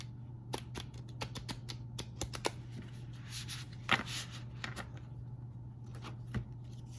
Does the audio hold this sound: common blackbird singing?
no